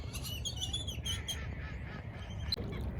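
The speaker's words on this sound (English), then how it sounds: "Ducks here may be fighting for territory, a term known as territoriality." Ducks quacking in a group, several overlapping calls repeating over a steady low background rumble, fairly close and continuous throughout.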